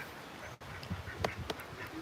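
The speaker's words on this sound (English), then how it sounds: "Ducks, if you know what's good for you, Quacky, Miss Calloway, come on." Farmyard ducks quack in a few short, separate calls at moderate distance. A soft outdoor hum sits underneath, with wind picking up, and no speech.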